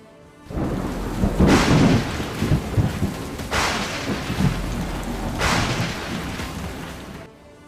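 Heavy monsoon rain pours steadily in Danta, Banaskantha, Gujarat, with several loud rolling thunderclaps rumbling through the downpour, up close and with no voices.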